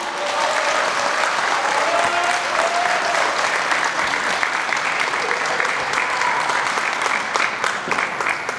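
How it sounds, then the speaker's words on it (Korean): Loud, sustained crowd applause fills a hall at a Busan mayoral by-election campaign launch, welcoming former lawmaker Lee Jin-bok to the stage, steady and dense throughout with faint voices and calls mixed in. "큰 박수로 환영해 주시기 바랍니다"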